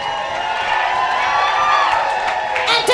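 A burlesque cabaret crowd at The Peacock Lounge cheers and whoops loudly, shouts rising and blending into a sustained roar, with scattered claps beneath.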